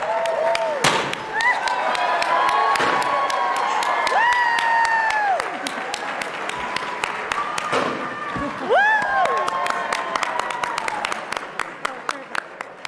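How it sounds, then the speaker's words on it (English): Applause and cheering from a gala crowd at a charity festival event, clapping running throughout with whoops, bright tonal sounds layered on top and occasional sharp hits. "we'd like to give them a big round of applause"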